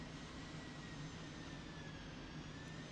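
Faint, steady jet engine rumble and hiss from an A-10 Warthog taxiing toward a hangar in a flight video game, a continuous low drone with no speech.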